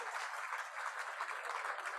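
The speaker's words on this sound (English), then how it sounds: "You may continue to applaud if you like" Applause from the audience at a community music center's centennial gala, a soft, steady patter of many hands heard at some distance in a large room.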